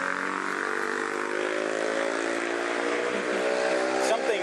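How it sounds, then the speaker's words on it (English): A loud motorbike engine drones steadily on a street in Ao Nang, Krabi, Thailand, holding a continuous near roar through the whole stretch with no talk over it. "The loud motorbikes here still pervasive."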